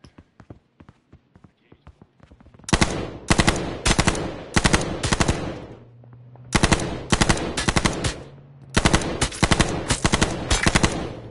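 Rapid automatic gunfire in a PS4 shooter game comes in several loud bursts, each a fast string of sharp shots with short pauses between, preceded by lighter scattered clicks.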